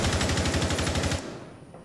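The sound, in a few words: gunfire shooting through walls in a video game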